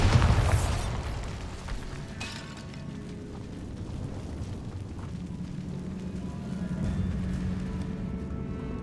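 The Bombarda spell explodes in the video game Hogwarts Legacy, a loud blast at the start that crumbles into rumbling debris and a long, low, steady roar fading slightly before swelling again.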